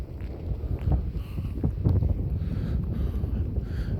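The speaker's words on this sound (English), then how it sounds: "It's really windy." Steady low rumble of wind buffeting the microphone at night in Hilo, Hawaii, with gusty swells and a broad roar throughout, no voices.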